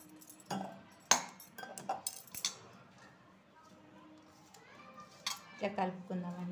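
Sesame puri dough gets stirred with hot oil, sesame seeds and salt in a bowl, giving scattered clinks and scrapes of a utensil against the dish, with a few quiet sharper taps and soft voices in the background.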